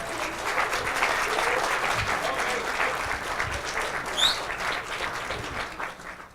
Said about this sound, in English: Ladies and gentlemen, round of applause for a proud father.